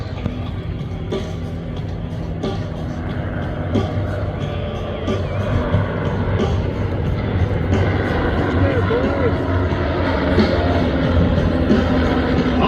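Nine aircraft in diamond formation pass over an air show with smoke on, a continuous engine drone that grows slightly louder, mixed with crowd noise and voices.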